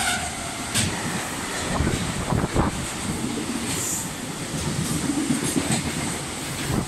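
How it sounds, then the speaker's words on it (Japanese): A freight train hauled by EF210 electric locomotive No. 133 rumbles past platform 3 at Kanayama station at moderate distance, with rhythmic clattering wheels and a broad, steady roar that swells and lingers. "3番線を列車が通過します。"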